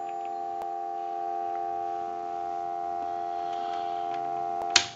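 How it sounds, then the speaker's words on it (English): Steady, unbroken telephone dial tone from an Automatic Electric three-slot payphone line, played loud through an amplifier, holding constant for the whole stretch with a faint tick early on and a sharp click just before the end. "Let it go one more time and we'll give you some dial tone."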